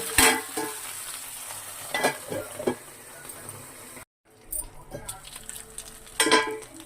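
Fish frying on a banana leaf in a covered pan makes a close sizzle marked by several sharp clinks and knocks of a lid or utensil, with a short silent break midway.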